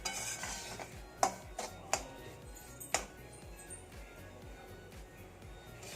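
Semolina roasting on a low flame while being stirred for sweet ghughra: a soft, low scraping rustle with a few sharp clinks of a spoon against the pan early on, quiet and close, with no voices.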